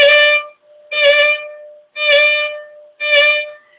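A fiddle plays four short, evenly spaced bowed notes, each carrying a quick finger wiggle ornament, clear and close with brief gaps between them.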